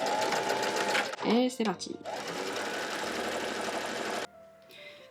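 A sewing machine stitches a straight seam on an elastic bandeau top, a steady buzzing whir running for a couple of seconds, then stopping, with someone briefly speaking over it.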